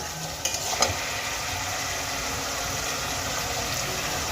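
Onions fry in a pan as grated ginger goes in, with a steady sizzling hiss and a couple of faint stirring clinks near the start.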